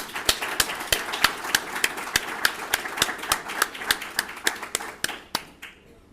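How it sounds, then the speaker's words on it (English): Applause welcoming a lecturer at a lecture event, a sparse, slow, steady rhythm of individual sharp claps from a small group, fading out at the end. "So please, let's give him a round of applause to welcome them together."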